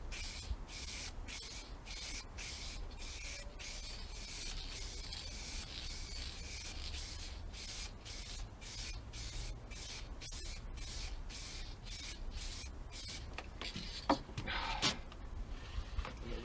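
Spray paint is applied in coats to a guitar body hanging on a wall, heard as a rapid run of short, evenly spaced hissing bursts, close and steady, before the spraying breaks off into quieter handling noises.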